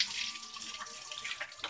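Water runs from a tap while hair is rinsed during a home rebond treatment, a faint steady splashing stream with small irregular spatters.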